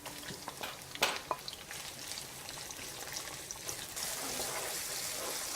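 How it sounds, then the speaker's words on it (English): Garlic and onion frying in a pan for rad na, a soft continuous sizzle with a few sharp clinks and stirring scrapes early on, then a louder hiss toward the end. "Cook our garlic. And I'm going to add my onion in it."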